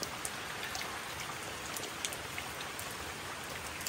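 Steady rain falls and patters on surfaces, a dense continuous hiss with scattered louder drops, fairly quiet and close with no talking.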